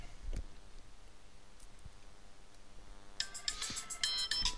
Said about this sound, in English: you'll hear my cell phone ring.